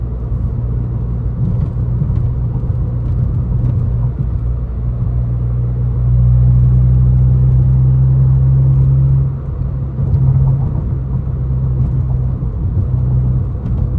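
A 2013 Honda Civic Si with a manual gearbox drives along back roads, its engine humming and droning steadily from inside the cabin, rising to a louder, fuller pull partway through, with no talking.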